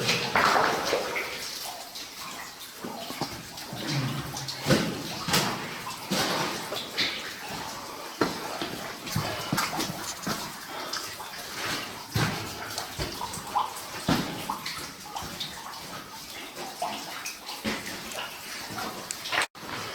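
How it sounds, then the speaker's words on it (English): Water runs into an old abandoned copper mine, a continuous rushing, splashing flow that echoes in the workings for the whole stretch, with scattered knocks and splashes rising above it. "There's water coming in, so it must be going down."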